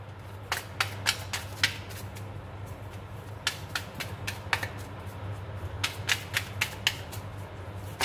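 Tarot cards drawn and handled during a reading, a series of crisp taps and snaps arriving in small clusters over a steady low hum, fairly quiet with no speech.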